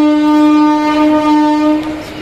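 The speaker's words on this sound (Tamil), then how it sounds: "கோயம்புத்தூர்லேருந்து நாகர்கோவில் போகிற ட்ரெயின் தான் வந்திருக்கு." A passenger train at Tirunelveli Junction platform sounds a loud, sustained horn tone with rich harmonics that holds steady and then fades slightly toward the end.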